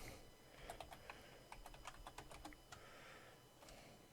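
Quick bursts of clicks from a computer keyboard at a password prompt, with short runs of keystrokes, small pauses between them and a last isolated tap, fairly quiet and close with no talking.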